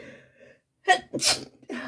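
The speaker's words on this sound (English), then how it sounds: "Excuse me, I'm gonna sneeze." One sharp, close sneeze bursts out after a quick intake of breath, followed by a short exhale.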